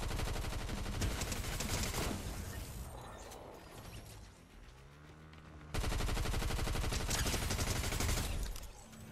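Dense, continuous gunfire from the Fortnite video game fills the scene with loud rapid bursts, dips briefly in the middle, then resumes at full intensity, with no voices over it.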